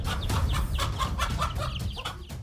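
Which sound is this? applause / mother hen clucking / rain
mother hen clucking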